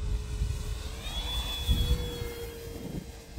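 An FMS P-47 Razorback RC plane on a 6S 4000 battery flies at about half throttle, its steady electric whine shifting in pitch as it passes, fairly faint over outdoor background noise.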